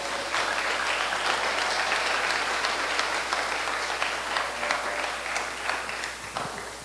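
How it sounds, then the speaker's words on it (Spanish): A church congregation applauds in praise during a sermon, a dense, steady wash of clapping that holds loud throughout and thins slightly toward the end. "Un aplauso para el Señor."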